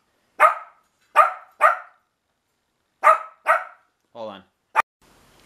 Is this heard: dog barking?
yes